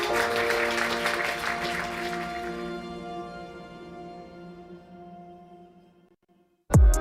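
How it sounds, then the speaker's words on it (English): A crowd applauds at a SailGP sailing grand prix event in Auckland, loud clapping fading out gradually over several seconds under a sustained musical tone, ending with a brief loud thump. "Martini, big round of applause."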